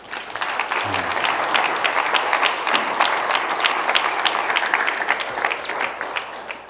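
Steady, dense applause from an event audience fills the room at full strength, a continuous wash of many hands clapping with a brief low sound near the start.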